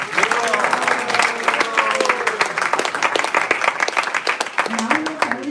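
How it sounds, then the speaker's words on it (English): Applause from an audience at a Sunday school Gita Jayanti event: dense, steady clapping for several seconds, fairly close, with some crowd voices mixed in. "Please join me in giving them a round of applause."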